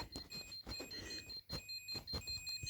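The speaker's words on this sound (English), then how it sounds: "Listen, look, this is the continuity test." A multimeter in continuity mode gives a steady high-pitched electronic beep that stops and restarts several times as the probes touch, faint against a quiet room, with no talking.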